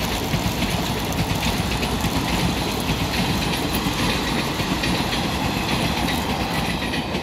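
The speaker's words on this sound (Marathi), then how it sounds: "इथून रेल्वे जाता" A train from Nashik rolls past close by, a loud, steady rumble with clickety-clack wheel rhythm and engine drone filling the whole stretch.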